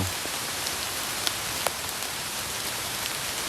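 Steady rain falls on surfaces in a wet outdoor setting during mushroom foraging, a dense continuous patter with a couple of sharper drops standing out, no voices.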